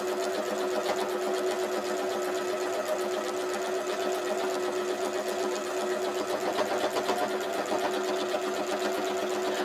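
A sewing machine runs steadily while quilting a padded pot holder, a continuous close whirring hum of rapid stitching that holds at an even pace for the whole stretch.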